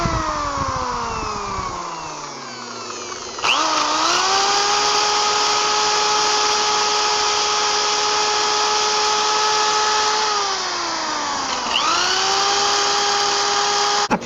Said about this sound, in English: I like to use one of these pad sanders here, and this is how it works